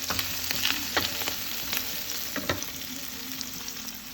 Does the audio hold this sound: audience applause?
no